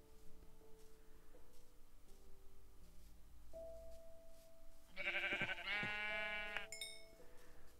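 In Minecraft, blocky sheep give a few clear, nasal bleats one after another over quiet ambient game music, loud and close.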